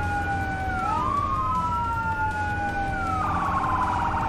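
Emergency vehicle sirens wail in Firefighting Simulator: The Squad, two tones gliding up and down and crossing each other, then one switching to a rapid yelp near the end, loud and continuous over a steady low engine rumble with no talk.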